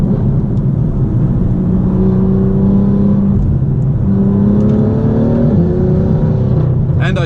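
A BMW M2 with about 450 hp runs steadily under load on a test drive, its engine droning loud and close from inside the cabin as the revs rise and fall gently.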